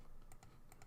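Someone types in a chat window on a computer keyboard, producing soft, fast key clicks over a steady low room hiss.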